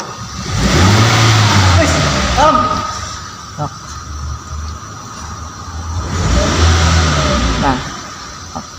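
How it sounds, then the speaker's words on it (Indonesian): An EFI car engine is revved up and held steady around 2000 rpm during a tune-up, rising from idle in two swells of mid-pitched engine roar while someone talks over it nearby. "Kita injak sampai 1 hingga 2 menit dan harus konsisten di 2000 rpm"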